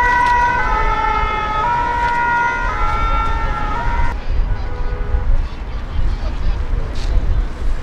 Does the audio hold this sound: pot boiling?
no